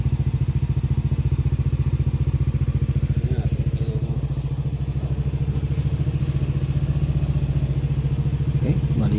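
A Yamaha NMAX 155 scooter engine with a newly replaced block set idles with its radiator cap open, giving a loud, steady, close rhythmic putter. A faint metallic clink and light handling noises sit on top of the engine.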